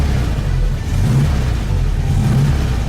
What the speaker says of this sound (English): we've got a running Beetle